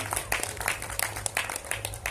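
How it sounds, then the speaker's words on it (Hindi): Audience applause welcoming Babuji Nand Kumar Baghel, father of Chhattisgarh's chief minister, at a Sadguru Kabir gathering; steady, moderately loud clapping from a crowd over a low hum, with scattered sharper claps throughout. "तालियों के साथ स्वागत करें बाबूजी नंद कुमार बघेल का"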